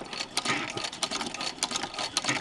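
A Singer 15-88 hand-crank sewing machine with a zigzagger runs in a quick, even rhythm of mechanical clicks and whirs as it stitches fabric for a small baby jacket, close and alone.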